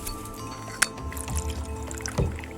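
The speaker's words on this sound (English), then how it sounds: "Pour the birch sap into a bottle" Birch sap is poured into a bottle, giving close, gurgling trickles with a sharp clink near the start and a bubbling glug toward the end, no voices present.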